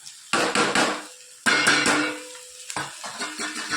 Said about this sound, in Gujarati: સરસ બધું મિક્સ કરી દઈએ.